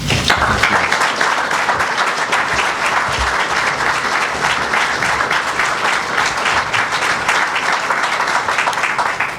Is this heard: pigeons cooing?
no